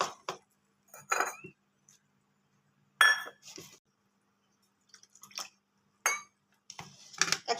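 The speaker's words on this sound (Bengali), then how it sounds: "সব কিছু অনেকক্ষণ ধরে মিশিয়ে নেব।" A spoon works wheat flour and water into a batter in a bowl, making sparse, quiet clinks and wet taps in short separated bursts with silence between.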